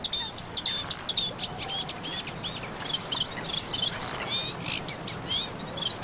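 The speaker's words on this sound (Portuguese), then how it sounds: "São falcões tagarotes." Small falcons calling at dusk over heathland below a hill, a chorus of sharp repeated high calls scattered through the whole stretch, some near and some farther off, over a steady rushing background.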